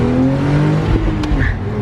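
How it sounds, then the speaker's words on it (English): A BMW Z4 accelerates hard with a brief chirp of wheel spin, its engine loud and close throughout with a steady roar and no talking. "You hear that little wheel spin?"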